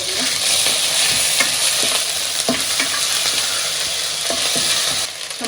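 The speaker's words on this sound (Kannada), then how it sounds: "ಶುಂಠಿ ಬೆಳ್ಳುಳ್ಳಿ ಪೇಸ್ಟ್ 1 ಸ್ಪೂನ್ ಹಾಕೋಣ. ಎಲ್ಲ ನೀಟಾಗಿ ಫ್ರೈ ಆಗಲಿ." Onions with ginger garlic paste frying in a pan for crab sukka, with loud constant sizzling and repeated spatula scrapes and taps throughout, close up, easing slightly at the very end.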